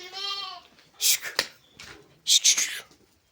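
A local Gavran sheep kept in an enclosure gives one clear, wavering bleat near the microphone, followed by someone speaking with some sharp rustling knocks in the pen.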